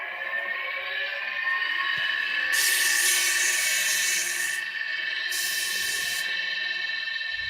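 Wooden ladle spinning on a lathe with a steady high motor whine, joined by two hissing bursts of 320 grit sandpaper pressed against the wood.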